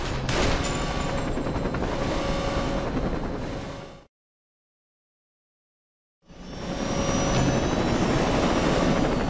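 A helicopter roars loudly in the video game Saints Row 2, its dense rotor and engine noise filling the scene before cutting to total silence for about two seconds, then returning just as loud.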